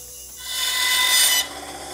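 A bandsaw cuts through a carbon fiber piece for a headphone stand with a steady close rasping hiss that swells over about a second, then drops off abruptly as the blade clears the material.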